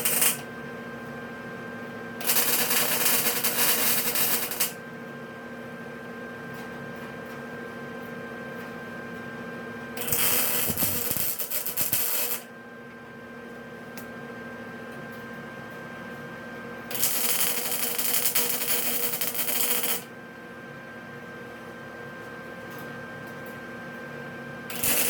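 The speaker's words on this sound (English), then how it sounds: "So let's get to welding." Welding on a Ford L9000 truck visor comes in three separate crackling, hissing bursts of a few seconds each, close and steady, with a quiet mechanical hum in the pauses between them.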